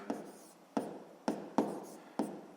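A pen writes math working on paper, five distinct quick scratchy strokes spaced about half a second apart, quiet and close with no voice over them.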